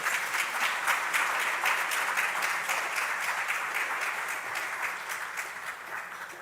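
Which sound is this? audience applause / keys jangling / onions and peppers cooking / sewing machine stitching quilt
audience applause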